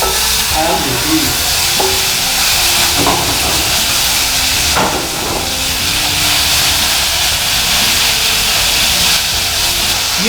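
Beef hits a hot fry pan beside pushed-aside vegetables for a Ssamjang fajita, giving a loud, steady close sizzle and hiss with occasional stirring clatter throughout.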